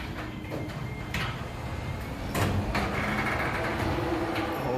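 A repaired garage door with its sagging or cracked panels braced by long reinforcing bars runs on its opener, a steady mechanical rumble and rolling whir with a few clunks and a louder surge midway.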